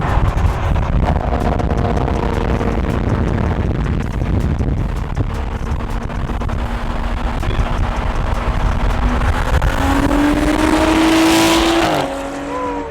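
A BMW N55 engine with a straight-pipe exhaust roars steadily at high revs, loud and close, then pitches up sharply near the end before dropping off.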